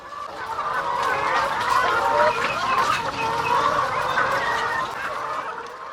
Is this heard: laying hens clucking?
yes